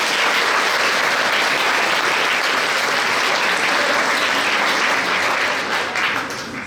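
Audience applause at a regional science fair final in Québec, sustained dense clapping that holds steady and then begins to fade near the end.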